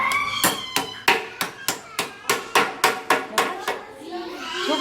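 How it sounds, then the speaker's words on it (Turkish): A child bangs a toy hammer in a steady series of about fourteen sharp, close knocks at an even rhythm, with an adult speaking faintly between the blows. "Şeyle, çekiçle çaksana onu."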